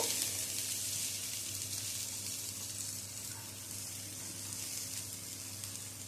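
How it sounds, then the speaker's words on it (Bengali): Rice with fried potato and cauliflower sautéed in a spiced masala gives a soft, continuous sizzle, faint and even with little variation. "আলু ফুলকপি দিয়েও আবারও কিছুক্ষণ ধরে মিশিয়ে নেব"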